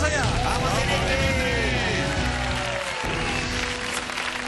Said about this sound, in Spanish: Lo intenta Dimitri con el fuerte aplauso